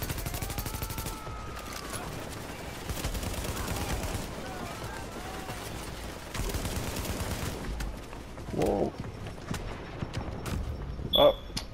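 Enemy gunfire in The Division video game, shots and bursts scattered through a busy battle soundscape with moderate, fairly continuous noise and a few sharper spikes near the end.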